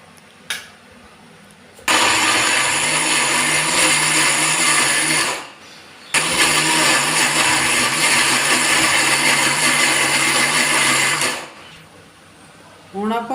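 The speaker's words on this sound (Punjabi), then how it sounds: "ਮਸਾਲਾ ਪੀਸ ਲਿਆ ਮਿਕਸੀ 'ਚ" An electric mixer grinder blends green chillies into masala, whirring loudly in two long bursts of several seconds each, separated by a short pause and followed by a brief quiet tail.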